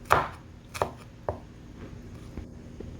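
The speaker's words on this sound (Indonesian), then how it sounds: "Dan ini bumbunya saya potong-potong saja." A knife chops spices for stir-fried bottle gourd on a cutting board, three sharp thuds in the first second and a half followed by a few softer taps, close and with no talk.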